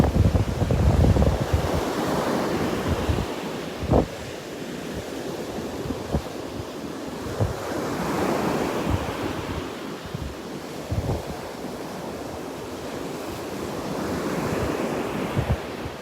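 Ocean surf washes steadily onto Bowman's Beach on Sanibel Island, with repeated waves breaking and receding amid gusts of wind buffeting the microphone, no voices present.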